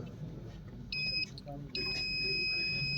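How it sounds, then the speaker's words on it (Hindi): Electronic buzzer alarm on a device that signals an empty pet food bowl, sounding as two steady high beeps, a short one then a longer continuous tone, with a voice talking underneath. "ये एलईडी ऑन करेगा और बजर भी ऑन हो जाएगा"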